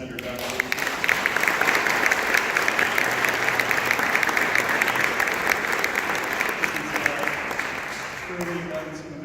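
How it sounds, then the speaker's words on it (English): Applause for Senator Duckworth at a veterans' deportation panel: a room of people clapping steadily and fairly densely for several seconds, fading near the end as a voice comes in. "please another round of applause for Senator Duckworth."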